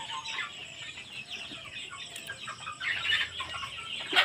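Hens and roosters on a poultry farm cluck repeatedly in a nearby flock, with overlapping calls rising and falling and growing busier toward the end.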